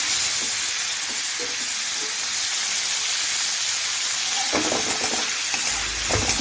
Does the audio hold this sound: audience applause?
no